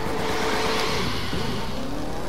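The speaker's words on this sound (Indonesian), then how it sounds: "It's a perfect drift guys." A car drifting in the racing video game The Crew 2, a steady loud engine roar with shifting revs and a faint tire squeal running throughout.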